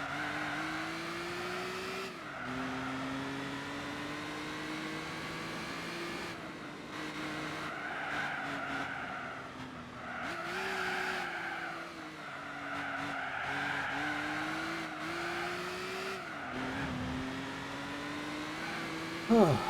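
Race car in Gran Turismo 4, a Porsche-like car with stability issues driven without assists: a steady engine whine rising and dropping through gear changes, with tire squeals and skids between shifts, close and continuous.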